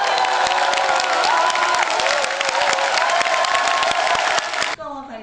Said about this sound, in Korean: 한명숙 시장 후보님께서 오셨습니다. 큰 박수 부탁드립니다